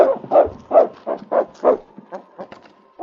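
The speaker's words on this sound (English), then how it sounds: "When he reached the door, he scratched it and barked." A dog barks and yips in a quick series of sharp, close barks, some whining, with no clear scratching heard.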